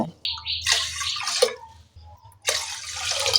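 Water poured into a bowl of rice, about three bowlfuls, in a home kitchen; a trickling, splashing pour starts near the beginning, pauses around two seconds, then resumes strongly, close and fairly loud with no talking.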